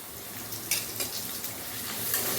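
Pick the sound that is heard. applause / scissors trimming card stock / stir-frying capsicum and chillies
stir-frying capsicum and chillies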